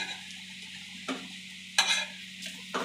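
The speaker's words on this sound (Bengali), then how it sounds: "একটু লাল লাল করে ভেজে নেব" Pieces of besan and egg batter fry in hot oil with a steady close sizzle, broken by three sharp clicks of a spatula stirring against the pan.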